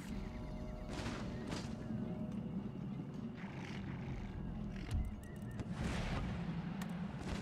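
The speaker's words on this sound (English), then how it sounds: "We might try and focus all of them on traditional mortar fire." Artillery and mortar fire in the strategy game Empire: Total War, a dense roaring battlefield bed with repeated booming shots and a heavy low rumble, continuous throughout.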